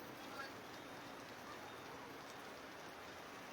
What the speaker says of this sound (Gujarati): મેઘરાજા મન મૂકીને અત્યારે વરસી રહ્યા છે